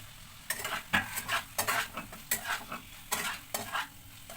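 Potatoes and soya chunks go into a pan of cooked-down tomato and crushed garlic, stirred with a utensil, giving repeated scraping strokes over a light sizzle, close and moderately loud with no talking.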